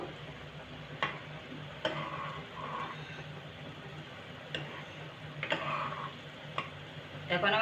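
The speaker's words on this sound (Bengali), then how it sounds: "আমি আস্তে আস্তে মিষ্টিটাকে নাড়তে শুরু করবো" A ladle stirs rasgulla slowly in sugar syrup, making soft gentle scrapes and taps against the pot over a faint low simmer, with a few brief sharper knocks.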